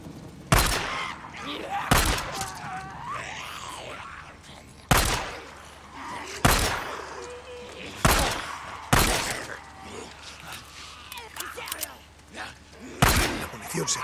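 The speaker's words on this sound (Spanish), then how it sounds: "Se trata de apuntar a la cabeza y no fallar el disparo." Gunfire in the Days Gone video game: about eight sharp, loud shots land at irregular intervals over a murky ambient game soundscape with faint background noise between them.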